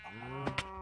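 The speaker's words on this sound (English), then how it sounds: "The cows now live underground." A cow moos in the Minecraft video game, one short low bovine call with a second brief bellow close behind, heard alone with no talk over it.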